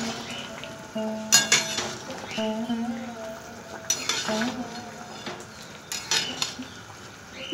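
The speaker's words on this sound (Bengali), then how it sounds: "15 মিনিট পর আমি ঢাকনাটা খুলে দিচ্ছি।" A pot lid is lifted off jackfruit and potatoes simmering in a pot, with metallic clanks and clattery bursts spaced apart over a low bubbling, steamy background.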